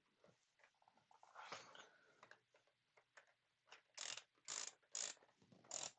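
Dial on an Oculus Quest 2 Elite Strap with battery being twisted, giving a quiet series of sharp ratcheting clicks that grow more distinct toward the end.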